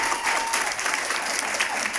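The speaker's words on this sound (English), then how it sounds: "Let's give our individuals another round of applause." Audience applause at a school district new hire signing ceremony, a dense, steady round of clapping from a crowd that carries evenly from start to finish.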